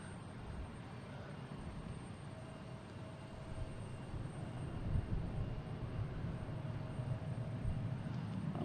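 A Frontier airliner in Hummingbird livery at Boston Logan airport gives off a steady, fairly faint jet roar that swells slightly midway and holds at a constant distance.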